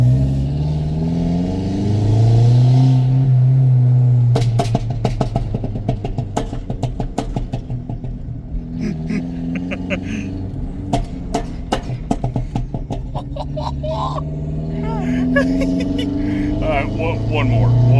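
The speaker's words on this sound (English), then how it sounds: "See if we can get some of its backfires going." An old, crusty Cateye car engine revs up and down loudly at close range. A rapid string of sharp backfire pops and crackles follows the revs.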